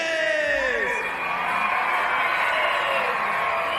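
A stadium crowd at a Banana Ball baseball game at historic Grayson Stadium cheers and whoops, a loud sustained roar with high rising shouts swelling through.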